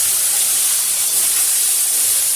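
Ground spice paste sizzles loudly in hot oil in a kadai, a dense, even, hissing fry that holds steady without pause.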